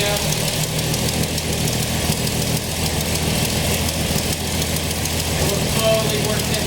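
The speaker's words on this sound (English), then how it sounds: "So we'll start back here with the mixture screw. And right now we're at 700 RPM." A Toyota 2F engine idles steadily at about 700 RPM while the mixture screw on its Aisan carburetor is adjusted, a continuous low rumble throughout.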